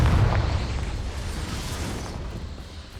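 Confringo fire spell explosion in Hogwarts Legacy, a loud low booming burst at the start that rumbles and slowly fades over a few seconds, with no talk.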